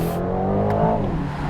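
A 656 hp Aston Martin Vantage sports car engine free-revs in a low gear, a steady loud drone that rises slightly in pitch over a short burst.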